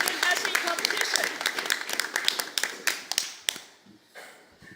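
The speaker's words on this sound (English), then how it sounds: "Can we have a round of applause for the winners of the Global Leadership Award and the Student Essay Competition?" A conference audience applauds award winners with dense, steady clapping that thins and fades out toward the end.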